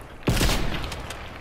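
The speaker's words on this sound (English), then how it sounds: "I just shot you!" A single sharp gunshot with a booming tail from a shooter video game, close and loud, sounding once after a moment of quiet.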